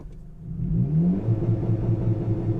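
Honda Civic engine tuned with Hondata FlashPro, revving and held steady against a launch control limit near 3,300 RPM, producing a loud continuous rumble with a pulsing, bouncing drone as the limiter cuts in.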